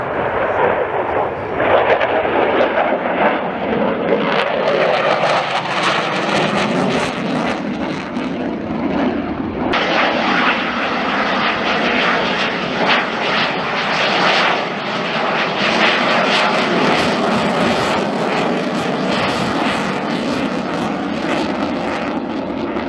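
Delta-wing jet aircraft flying past at the RIAT airshow, a loud, continuous roaring engine noise that builds and holds steady throughout, with broad rushing texture and no distinct gaps.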